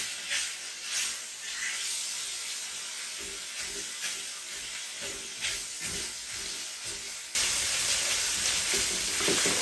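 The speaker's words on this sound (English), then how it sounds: "we're going to start with a pound of sausage, loose sausage. I'm going to brown this." A pound of loose sausage browns in a pan with a steady, close sizzle and hiss, punctuated by occasional scraping stirs, briefly growing louder near the end.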